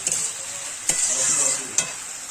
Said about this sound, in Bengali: আর অল্প একটু চিনি দিয়ে ভালো করে নেড়ে চেড়ে এবং ভালো করে আমি নেড়ে চেড়ে নিয়েছি।